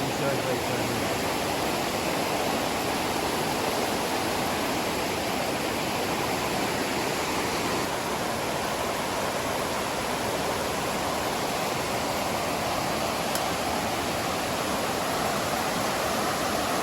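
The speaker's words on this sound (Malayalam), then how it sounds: "ഇവിടെ കാണുന്നത് ഇത് ചെറിയൊരു വെള്ളച്ചാട്ടം വെള്ളം ഒഴുകി പോണത്" A small waterfall near Kodaikanal gives a steady, loud, unbroken rush of falling and flowing water from start to finish.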